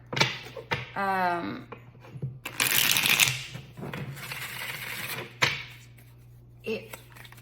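Tarot cards riffle and slap together in a few quick shuffling bursts, close by, with a brief voice and light handling noises between them.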